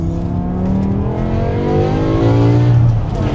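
A 500-horsepower BMW M5 revs hard under heavy acceleration in its most aggressive gear-change mode, the loud engine note climbing steadily in pitch and swelling toward the end.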